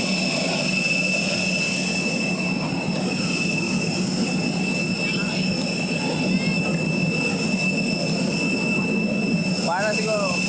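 Airplane engine drone inside the passenger cabin, a steady broadband roar with a constant high whine, loud and continuous throughout.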